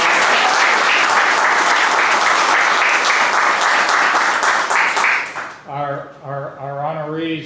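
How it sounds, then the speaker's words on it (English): A large audience at a Laredo College ceremony breaks into loud, sustained applause, dense clapping that fills the room before fading as a voice begins speaking over the tail end. "Let's give them a big round of applause."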